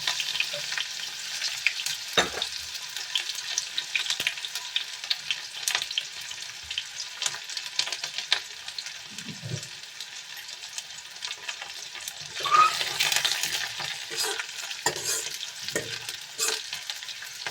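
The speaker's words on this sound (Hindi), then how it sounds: "अब मैंने इसमें तेल चढ़ा दिया कढ़ाई में, और तेल भी गर्म हो गया है। अब इसमें डालूंगी मैं जख्या।" Jakhya seeds crackle in hot oil in a kadhai. A long, steady sizzle with sharp pops and scraping stirs throughout, swelling louder for a stretch near the end.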